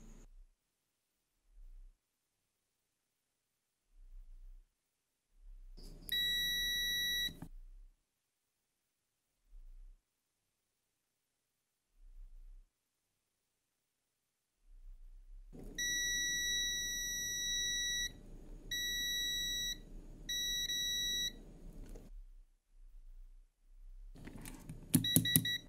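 A multimeter on continuity mode beeps while probing a resistor on an electric rickshaw motor controller, giving two sustained high tones, the second longer and broken by short gaps, between quiet stretches of handling clicks.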